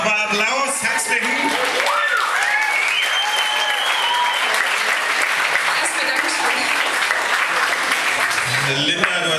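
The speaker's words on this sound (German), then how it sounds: "Und nochmal Applaus, herzlichen." Loud, dense applause fills a stage hall at an acoustic slam music contest and holds steady throughout, while a voice talks and sings over the clapping.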